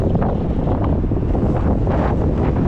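Strong wind roars steadily across the microphone, a dense low rumble that buffets and gusts without a break for the whole stretch; no voices.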